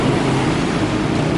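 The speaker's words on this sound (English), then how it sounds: "I'm sorry about the traffic. It's a lot of noise here." Steady, loud street traffic rumble on Central Pattaya Road in Pattaya, Thailand, a continuous low engine drone and wash of passing vehicles with no break and no voices.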